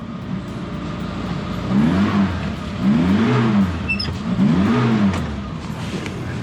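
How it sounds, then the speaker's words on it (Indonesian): The F10A engine of a Suzuki Jimny Katana revs three times in a row, each rise and fall rhythmic and close, over a constant idling rumble. "Mesin F10A suaranya tak terkalahkan dan tak tergantikan."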